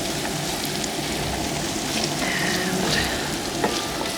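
Food frying on a camping stove outdoors, a steady, dense sizzle and crackle that holds evenly throughout at moderate loudness, with no talking.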